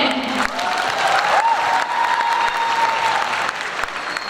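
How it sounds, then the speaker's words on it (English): An audience at a medical college event applauds after a comedy performance, a dense, steady wash of clapping that fills the hall, with a faint high tone sounding underneath. "Let's have one round of applause for them."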